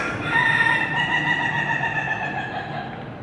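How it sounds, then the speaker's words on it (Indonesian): A rooster crows a single drawn-out cock-a-doodle-doo, clear and fairly near, its call tapering off over a few seconds against faint background noise. "sekarang ada ayam"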